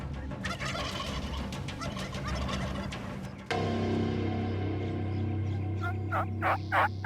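Wild turkeys gobble loudly in repeated bursts, overlapping calls ringing out from several mature gobblers, close and then slightly farther off.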